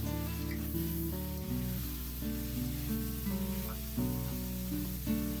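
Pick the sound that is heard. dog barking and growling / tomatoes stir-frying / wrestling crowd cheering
tomatoes stir-frying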